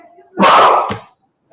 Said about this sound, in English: dog scared the shit out of me